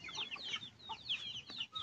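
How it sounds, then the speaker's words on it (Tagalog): Chickens cluck softly in a rural yard, with short, irregular bursts of squawky calls scattered through a quiet background. "Iyaan yung mga manok."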